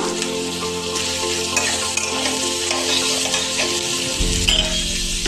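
Carrots and other vegetables stir-frying in hot white oil in a wok for chowmein, a steady loud sizzle with stirring scrapes running throughout, no voices.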